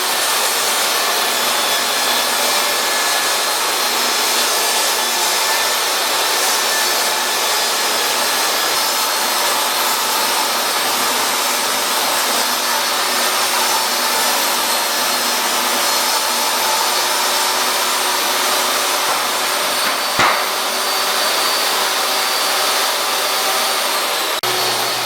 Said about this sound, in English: Now I'm taking the rough cut plywood and sizing it down to the sizes I need.